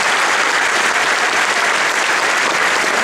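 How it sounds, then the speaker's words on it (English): Loud, dense audience applause at a religious lecture, a continuous roar of many hands clapping at even intensity for the whole three seconds. "Special round of applause for the moms"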